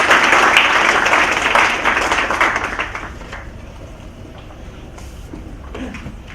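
A conference audience claps to welcome a keynote speaker at a lunch event, with loud, steady applause that fades away over several seconds.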